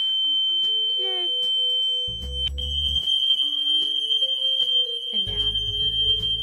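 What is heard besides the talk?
condo building fire alarm going off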